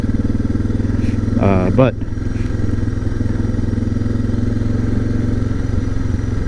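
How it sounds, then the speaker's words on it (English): A Suzuki DR650 motorcycle riding off pavement, its single-cylinder engine thrumming loud and steady up close with a brief rev midway, while a rider's voice comes through briefly. "the DR650 is such a good bike for the kind of riding I do."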